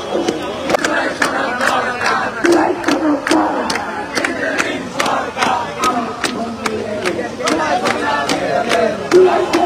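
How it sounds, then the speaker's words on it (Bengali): A protest crowd at the Shahbag roundabout chants slogans in the rain, with loud massed voices over a steady, rapid rhythm of sharp beats, close and continuous throughout. "এখনো কিন্তু তারা নানা রকম স্লোগান দিচ্ছে"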